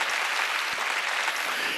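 A church congregation at an Easter service claps loudly in dense, sustained applause that fills the whole moment, with a few sharper claps standing out.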